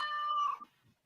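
A pet cat lets out a single loud, drawn-out meow close by, fading into near silence after about half a second.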